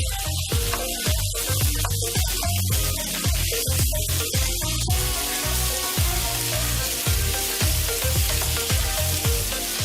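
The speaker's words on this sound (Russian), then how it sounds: "Моя задача немножко поджарить овощи." Bell pepper and onion sizzle steadily in a frying pan for Chinese sweet-and-sour eggplant, a loud continuous crackle with a rhythmic run of scraping stirs throughout.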